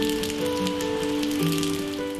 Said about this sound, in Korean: 갑자기 비가 내리는데요.